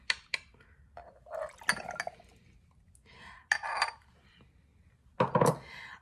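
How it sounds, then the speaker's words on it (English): Vodka pours briefly into a glass with ice, giving light splashes and a few clinks of ice against glass, close up, with quiet pauses between. "So we're just gonna pour that in here."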